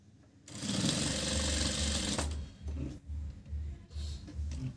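A sewing machine runs a steady, loud burst of stitching through leftover cloth for a tassel, then stops and restarts in short, evenly spaced pulses, alone without talk.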